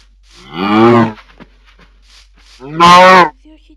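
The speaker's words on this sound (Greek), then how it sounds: "Αγελάδα!" A cow in the Minecraft video game moos twice, each low drawn-out call loud and close, separated by a short quiet pause.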